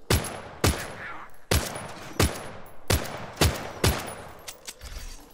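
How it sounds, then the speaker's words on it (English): Pistol shots fired in the survival video game The Front, six or seven sharp cracks spaced about half a second to a second apart, each followed by a brief ringing tail, with no talking. "I'll hit him with the pistol a little bit before soften him up"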